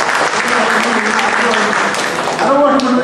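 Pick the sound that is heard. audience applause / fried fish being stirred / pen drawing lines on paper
audience applause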